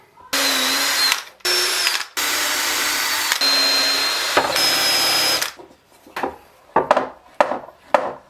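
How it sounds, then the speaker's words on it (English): A power drill whirs in several long bursts as screws bite into wood, followed by a few short, sharp clattering knocks. "and we can drill and screw it."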